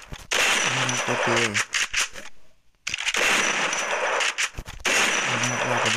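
Gunfire in the mobile shooter Free Fire comes in rapid bursts of shots, loud and close, split by a short quiet gap, and someone speaks briefly between the bursts.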